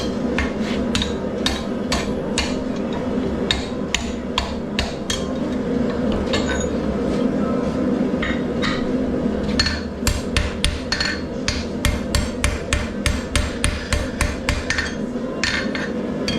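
Repeated sharp hammer strikes ring on metal being forged into a fireplace brush, a quick steady rhythm that grows more regular and pronounced toward the end.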